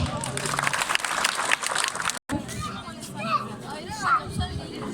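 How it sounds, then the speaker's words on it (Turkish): Guests at a Turkish civil wedding ceremony applaud with dense, steady clapping for about two seconds, then after a brief break the room fills with chatter and talking voices. "Alkış."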